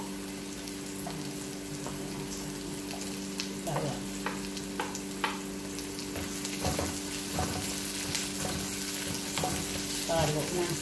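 Garlic sizzling in a pan for sautéed bagoong, a steady frying hiss with occasional stirring clicks over a constant low background hum.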